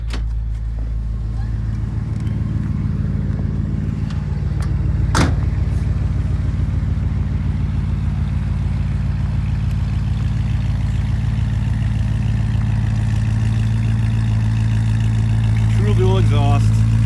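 A 1968 Chevrolet Caprice with a 327 four-barrel V8 and true dual exhaust idles steadily up close, a deep even rumble holding throughout with a brief sharp click partway through and someone talking over it.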